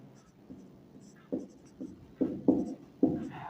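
Chalk or marker strokes on a board during a class-6 math lesson on perimeter and area, a series of short scratchy taps and strokes coming quicker toward the end, fairly close in a quiet room.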